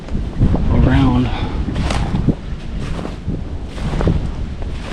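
Strong gusting wind of about 25 mph, with gusts near 40 mph, buffets the microphone in a rural Missouri field during late-season hunting, a loud, broad rumble that swells and eases, with speech mixed in.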